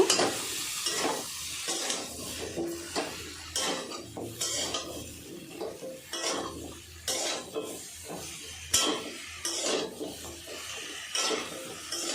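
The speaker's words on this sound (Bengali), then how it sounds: "দিয়ে দেবো কেটে রাখা বেগুন আর আলু সব কিছু এখন ভালো করে মিক্স করে নেব" Cut eggplant and potato are stirred in a frying pan with masala, a spoon scraping and clattering in repeated bursts over a low sizzle, close and busy, with no talking.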